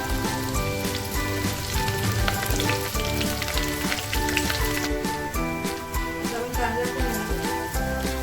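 Garlic, onions and curry leaves fry in a pan for a crab masala curry, a steady dense sizzle running the whole time beneath prominent background music.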